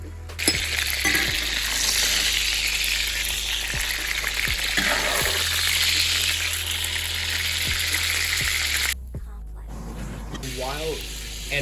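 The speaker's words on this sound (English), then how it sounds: "pop our burgers into it and let it start cooking" Burgers sizzle steadily in a hot pan, a loud, continuous frying hiss with a low hum underneath and a few soft clicks, briefly changing near the end as something is moved.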